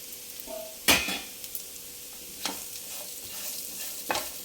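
Curry sizzling in a pan with onions, a low steady fry broken by several sharp metallic scrapes and clanks of a spoon stirring against the pan, with no talk.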